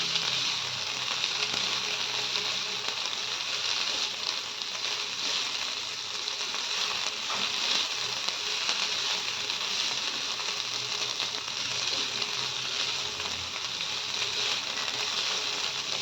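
Ridge gourd chutney sizzles steadily in a hot pan while it is stirred and mixed, making a continuous close frying hiss with faint scraping.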